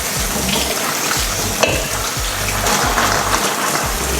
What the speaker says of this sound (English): I'm gonna wash them off in the strainer